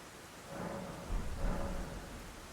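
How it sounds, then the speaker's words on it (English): In Elden Ring, steady rain hisses while low rumbles of thunder swell twice, all at a moderate, enveloping level. "it never stops raining here"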